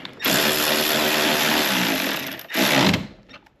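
A power tool whirs loudly while tightening a nut during installation of factory auxiliary switches on a 2019-or-newer Ram 2500/3500 truck, one long burst followed by a second shorter one, close up with no talking.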